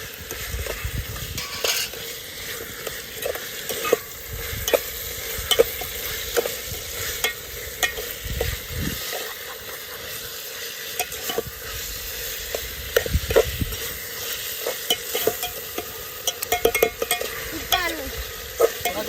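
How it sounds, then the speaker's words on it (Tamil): Four destemmed green chillies sauté in a pan for biryani, a steady sizzle running throughout while a utensil stirs and scrapes in repeated, uneven strokes nearby. "இப்போ நம்ம காம்பு பிச்சு போட்ட 4 பச்சை மிளகாய் இதை நம்ம உள்ளே சேர்த்து வதக்கிக்கலாம். நல்லா கிளறி விட்டுக்கலாம்"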